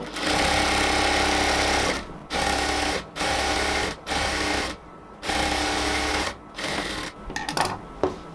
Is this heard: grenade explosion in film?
no